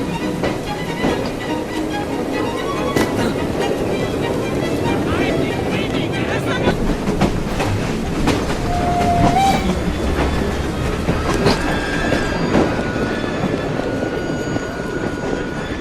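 A moving train in the video game Assassin's Creed Syndicate: a loud, sustained rolling rumble with rhythmic clickety-clack of wheels and a brief whistle-like tone midway, with voices at times over it.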